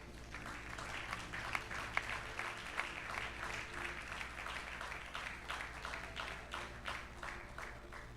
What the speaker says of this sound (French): Acclamez, on va commencer.